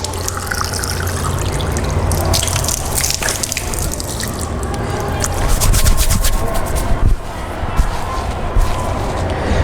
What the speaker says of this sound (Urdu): جیسے ہی نلکے سے میں نے پانی لے لیا، چہرہ دھونے کے بعد میں نے فوراً نلکا بند کر دیا۔